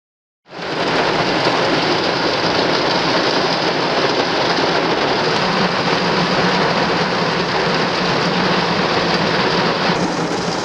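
Heavy rain pours down outdoors in St. Louis, starting abruptly and continuing as a dense, loud, unbroken roar with no voices.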